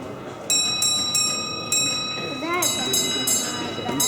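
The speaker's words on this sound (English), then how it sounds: "now he sends the train out of section bell signal" Clear ringing railway signal box bell strikes sound out a train-out-of-section signal, two beats, pause, one, each tone lingering with a metallic hum; a voice speaks briefly between them.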